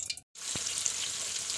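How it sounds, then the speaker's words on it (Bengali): Fish pieces fry in hot oil, giving a dense, continuous crackling sizzle up close after a momentary silent gap at the start, with a couple of faint knocks and no voices. "মাছগুলো দিয়ে দিয়েছি ভাজার জন্য।"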